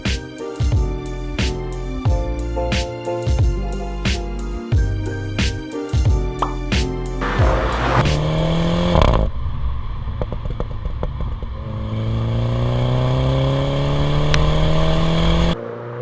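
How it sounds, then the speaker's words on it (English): A Mini John Cooper Works F56 revving hard in a series of sharp blips, with loud exhaust pops and bangs crackling between throttle bursts, then a sustained rising engine drone close to the microphone. "you'll find yourself just upping the revs and then jumping off the accelerator just to listen to the pops and bangs"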